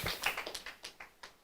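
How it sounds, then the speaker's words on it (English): A small audience gives Sydney Hood a round of applause at a school news broadcast wrap-up, a thin, fairly faint patter of a few hands clapping in a quick uneven rhythm. "can we give a round of applause to Sydney Hood?"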